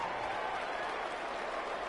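Stadium crowd at a football game, a broad, steady roar of cheering and clapping that holds at moderate loudness for a brief moment without a clear voice over it.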